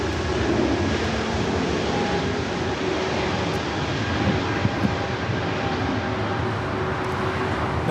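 Airliner landing on runway 24 right at Los Angeles International Airport, a steady, broad engine roar heard from a distance that holds evenly throughout without fading.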